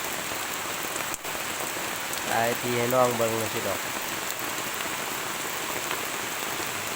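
Steady heavy rain falls in a forest during a storm, a dense continuous patter on surfaces, with someone speaking briefly over it midway.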